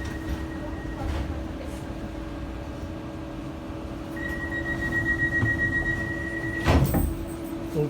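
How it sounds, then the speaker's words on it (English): DLR train doors slide shut inside the carriage at a station, with warning tones and a short thump and rumble as they close, all set against the steady hum of the train's interior. "Doors closing."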